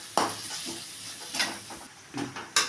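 Paneer and fresh coriander leaves being stirred in a pan for paneer rice, with a few separate scraping strokes of a spoon against the metal over a soft, steady background hiss.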